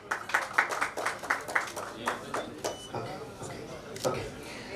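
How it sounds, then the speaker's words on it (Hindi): Audience applause for a little girl at an occult science awards event: a burst of rapid, dense hand clapping that fades to scattered claps, with a brief renewed swell near the end. "जोरदार तालियां हो जाए"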